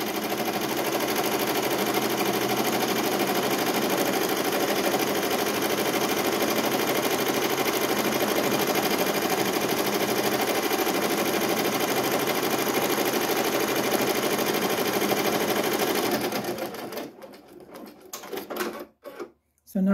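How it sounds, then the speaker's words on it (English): A computerized embroidery machine stitches a vinyl appliqué outline with a loud, continuous rapid needle chatter, then slows and stops into a few uneven clunks near the end. "So now it's going to outline the other part again."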